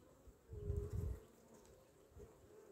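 Honey bees buzz around a hive as a queen cell is introduced into a swarm, a steady hum that swells loudly for a moment near the start and then settles back to a softer drone.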